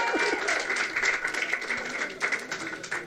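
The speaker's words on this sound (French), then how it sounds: "on applaudit Monsieur Lebluc qui est là." A crowd claps steadily for a few seconds, a dense patter of many hands with some louder bursts and voices mixed in.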